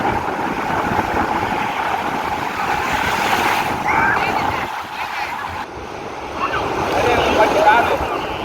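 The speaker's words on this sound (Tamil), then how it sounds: "இது தாங்க எங்கள் ஊர் பீச்சு." Sea waves surging and washing continuously onto a local beach, a loud broadband roar with wind buffeting the microphone, swelling and easing in a steady rhythm.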